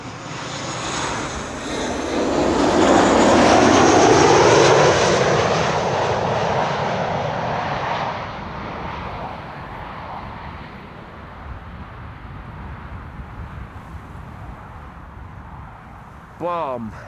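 A Transavia Boeing 737 jet roars past at an airport, the engine noise swelling loud over a few seconds then slowly fading to a distant rumble, with a brief radio voice at the end.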